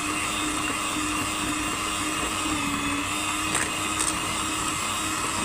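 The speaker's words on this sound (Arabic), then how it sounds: "تفضلي بقى اضربي لغايه ما السمنه تلمع، يعني تبقى ناعمه خالص معاكي" An electric mixer beats ghee and oil together for a mango cake, a continuous even whirring drone running unbroken throughout at moderate loudness, with no voices.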